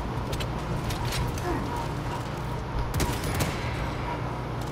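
An explosion and bursts of gunfire in the video game Warhammer 40000: Space Marine 2 during a Carnifex fight, sharp cracks and rumbling blasts in a dense, busy battle mix, with faint talk around them.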